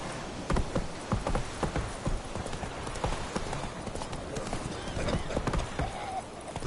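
Rapid, even hoofbeats of the horse Roach galloping in The Witcher 3, a continuous close clip-clop rhythm with a brief whinny-like tone near the end.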